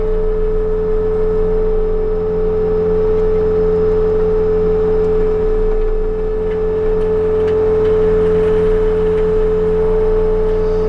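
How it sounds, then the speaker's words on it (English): Brush cutter on a Bobcat T66 skid steer, blades spinning down with a steady whirring drone over the running engine, loud and continuous. "now I gotta let it spin down here so I can flip"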